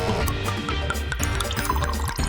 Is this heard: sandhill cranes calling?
no